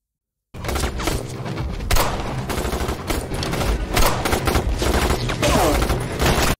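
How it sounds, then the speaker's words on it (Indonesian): Sustained gunfire in a police shootout at a drug-deal location in a 2024 action film, dense rapid shots and bursts with heavy thuds, loud and continuous over a busy soundtrack. "akhirnya baku tembak pun terjadi"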